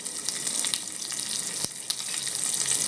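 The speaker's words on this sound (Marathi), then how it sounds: "आता तेल चांगलं बऱ्यापैकी गरम झालं आहे, तर आपण ह्याच्यामध्ये कढीपत्ता आणि ठेचलेला लसूण" Curry leaves and crushed garlic sizzle steadily in hot oil for a Malvani pomfret curry, a dense crackling hiss with scattered sharper pops and one loud spit midway, continuous and close.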